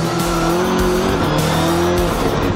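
A Subaru rallycross car races through a heat, its engine howling loud and close with shifting pitch and some tire noise, no talking.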